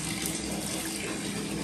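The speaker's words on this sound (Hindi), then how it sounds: "डाल दू तेरे ऊपर पानी" Water pours steadily over a shih tzu during a bath, a continuous splashing gush like a running tap, close by, with no talking.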